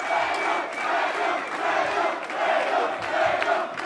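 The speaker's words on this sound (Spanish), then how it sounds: "Fuerte aplauso para este corta bigote." A large crowd roars and cheers for a rapper, a loud continuous wash of shouting voices with surging peaks throughout.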